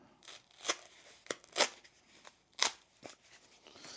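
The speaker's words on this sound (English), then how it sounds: "we'll cut about 4 inches of foam off here" Knife or scissors slicing through plumbing foam insulation for a garden box cover, several sharp crunchy cuts in an irregular rhythm, close and fairly loud, with no talking.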